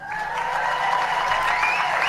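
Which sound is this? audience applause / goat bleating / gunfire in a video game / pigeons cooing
audience applause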